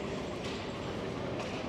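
Steady rumbling of an airport train in motion heard from inside, a constant broadband roar with no talking.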